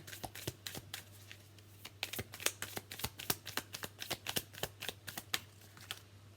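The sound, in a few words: shuffling tarot cards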